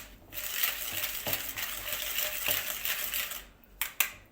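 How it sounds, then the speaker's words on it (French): Softened, slightly melted butter is beaten with sugar in a bowl for Christmas tree cupcakes, giving a steady scraping, clinking stir with a few sharper utensil taps near the end, close and moderately loud. "Vous mélangez le beurre ramolli un peu fondu avec le sucre."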